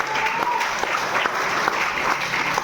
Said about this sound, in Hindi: तो एक बार बाबूजी के लिए जोरदार तालियां।